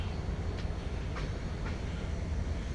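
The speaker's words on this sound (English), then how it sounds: "Train going by." A train rolls past at a distance, a steady low rumble with faint rhythmic clicks of wheels on rail, fairly quiet and continuous with no voices.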